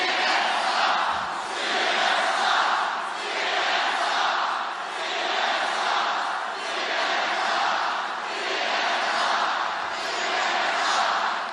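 Large political rally crowd roaring and cheering continuously, a dense wash of voices swelling and easing in slow waves.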